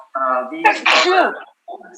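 A single sneeze bursts out in a quiet meeting room, a short sharp nasal blast following a brief vocal buildup, close and fairly loud, with a faint murmur after it.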